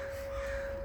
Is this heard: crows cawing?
yes